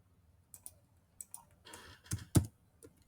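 A computer keyboard is tapped in short, irregular bursts of quiet clicks, with brief pauses between keystrokes and a slightly louder cluster near the end.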